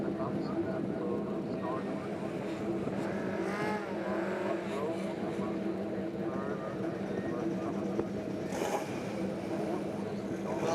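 Race cars launching off the starting line at Kirkistown circuit in a BOSS Ireland race, a sustained loud engine roar from the pack, with a commentator talking over it throughout.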